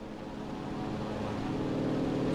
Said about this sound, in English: I hear an engine? Or is that my engine?